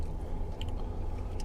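Shortbread cookies being bitten and chewed, a few soft crunching bites over a low background hum, close and fairly quiet, with no talking.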